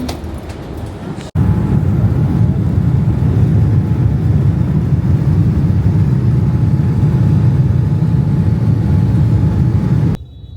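Airplane engine drone inside a passenger plane on a flight in Vietnam, a loud, steady low roar that starts abruptly and holds constant before cutting off near the end.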